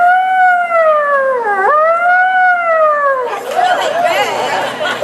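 A crowd at a law enforcement rally in Franklin, NC imitates a police siren, voices rising and falling together in a loud, sustained wail, then breaking into scattered cheering and chatter.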